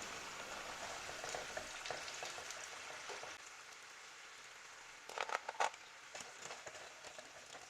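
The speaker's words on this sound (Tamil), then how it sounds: "சீடை வெந்ததுக்கப்புறம் பார்த்தோம்னா எண்ணெய் கொதி பாதி அடங்கிடும்" Small salted seedai balls, a Tamil rice-flour snack, frying in hot oil toward the end of cooking, give a faint, steady crackle and hiss, with a few louder crackling spurts near the end.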